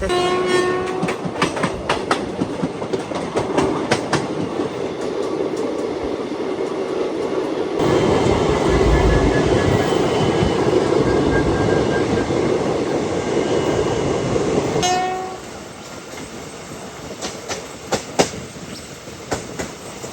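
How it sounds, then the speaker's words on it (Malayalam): The Amritha Express train horn honks in repeated short blasts over the rumble and clatter of the moving train, with bursts near the start and again toward the end. "ഫുള്ള് ഹോണില് കൈ വെച്ചാണ് ചേട്ടൻ ഓടിക്കുന്നത് കേട്ടോ. ഭയങ്കര ഹോണടിയാ കേട്ടോ"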